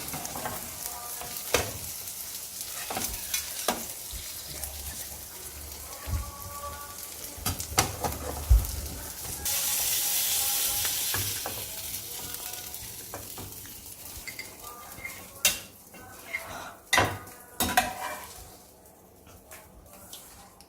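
An omelette fries in a pan with a steady close sizzle while two spatulas turn it, adding scattered scraping knocks and a brief louder hiss midway.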